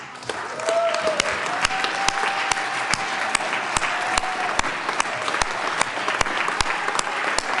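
Sustained applause from lawmakers in the Colorado House chamber, steady many-handed clapping with a few sharper claps standing out, with a faint voice briefly under it.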